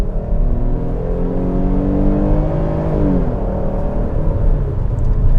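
A 2021 Dodge Durango SXT accelerating at full throttle, its engine holding a loud, steady drone that climbs in pitch, eases briefly, then rises again, heard from inside the vehicle with no talking.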